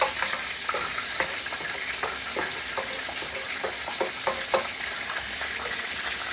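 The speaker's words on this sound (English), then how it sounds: "I'm going to create some space in here so the egg can cook." An egg fries in a pan alongside black beans and corn, a continuous bright sizzle broken by regular scraping clicks of a utensil stirring.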